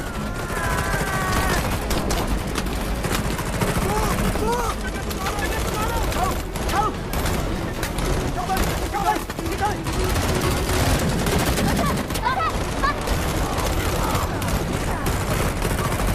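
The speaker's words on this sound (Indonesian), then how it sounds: "Aksi tembak-menembak pun terjadi dan Omar berhasil mengenai sang Kaixun." Rapid overlapping gunfire fills a movie shootout in a Jackie Chan action film. The shots form a dense, continuous loud barrage with music and voices mixed in throughout.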